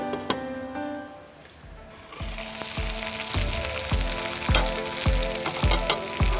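Chicken fries with cut green chillies and curry leaves in a strong, close sizzle, broken by a regular series of ringing knocks against the pan.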